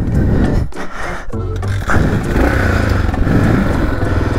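A 38-year-old Yamaha XT trail motorcycle ridden off-road, its single engine roaring and revving loudly and close with rough clattering bursts.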